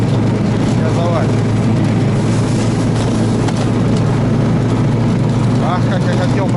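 Engine of a new 2025 Tofalar 600 Tundra snowmobile running at a steady low, throbbing idle, held off the throttle, with voices faintly present over the continuous hum.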